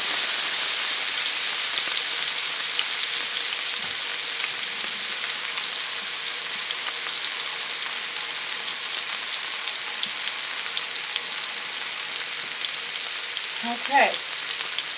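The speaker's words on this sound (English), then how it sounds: "We're going to put that down in that pan, and we're going to pan sear it." A chicken breast stuffed and held with Q-tips sears in a hot pan, a loud continuous close sizzle and crackle with a brief stir or scrape near the end, no talk.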